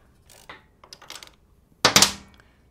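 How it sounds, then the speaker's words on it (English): A bolt is loosened and removed from a Harley-Davidson Sportster's charging system, with a few light metallic clicks and scrapes followed by a sharper clattering rattle near the end, close and fairly faint, with no talking. "lefty-loosey this top one right off of here. Take that bolt out of there."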